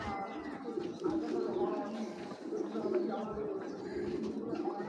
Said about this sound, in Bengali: এইগুলো ওনাদের ব্রিডিং কবুতর।